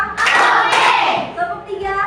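A class of standing schoolchildren does a group clapping game, their hands striking together in a dense, loud burst mixed with young voices chanting, then tapering off.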